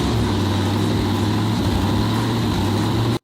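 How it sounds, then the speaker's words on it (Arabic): A police car's engine, under modification for more speed and power, runs steadily after starting, a loud continuous hum with a low drone that cuts off abruptly at the end. "وفعلا المحرك بيشتغل، وده لوحده بيكون انجاز عظيم."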